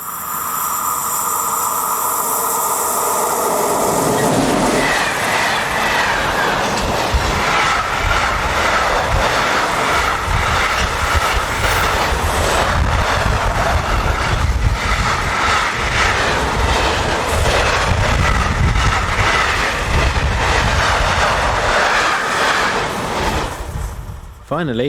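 Electric locomotive 1042 021 hauling an eastbound freight train just east of a station, a loud, close, continuous rumble with rhythmic wheel clatter as the wagons roll past, fading sharply at the very end.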